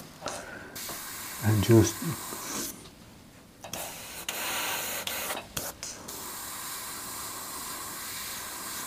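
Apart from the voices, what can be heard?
airbrush spraying paint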